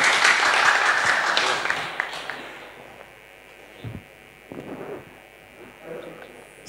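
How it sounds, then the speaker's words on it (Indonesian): Audience applause at a nighttime talk show with young Nahdlatul Ulama cadres, a burst of clapping loudest at the start and fading over about three seconds, followed by quieter room sounds and brief voices. "Sekali lagi tepuk tangan untuk Dr. Ahmad Mujib El Sirazi."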